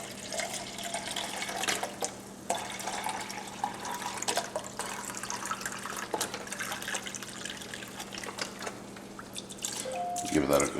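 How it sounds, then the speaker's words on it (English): A can of beef broth pours into a pot of one-pot spaghetti and meat sauce, a splashing, dripping liquid sound beneath ongoing talk in a kitchen. "we are going to add in a can of beef broth"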